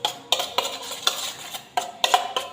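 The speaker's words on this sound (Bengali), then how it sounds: "অল্প একটু লবণ দিয়ে নেড়ে চেড়ে নিচ্ছি।" A spoon stirs and scrapes food in a pan after a little salt is added, a series of close metallic clinks and scrapes at an irregular rhythm with a faint sizzle.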